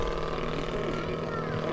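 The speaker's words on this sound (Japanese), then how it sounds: "ハンググライダーの羽にエンジンを積んだものが走ってる、飛ばしてる" A motorized hang glider trike with an engine mounted under its wing flies overhead at an air show, its steady droning buzz continuous and fairly loud, with a commentator talking over it.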